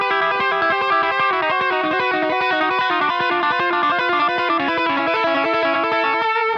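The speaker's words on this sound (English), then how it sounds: "Do you hear how the delay comes back and starts to harmonize with you in time?" Fast electric guitar tapping run with a delay effect echoing the notes back in time, a dense, continuous, loud cascade of overlapping harmonizing tones with no talk.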